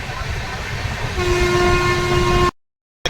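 A train bound for Gujarat's Statue of Unity rumbles along the rails without stopping, a steady tonal hum riding over the noise, then the sound cuts off abruptly.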